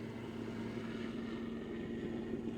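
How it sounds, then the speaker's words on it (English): A helicopter flies overhead during a Starship rocket launch broadcast, giving a steady low throbbing rotor drone with a pulsing beat, faint and continuous without talk. "Helicopter, helicopter, helicopter."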